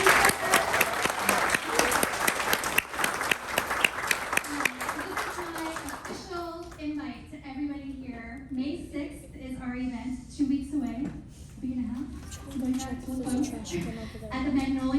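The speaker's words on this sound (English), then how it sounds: "Give me a round of applause." Applause from an audience at a school district board meeting, with dense loud clapping for several seconds that fades out as a person begins talking.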